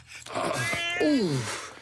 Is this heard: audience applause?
no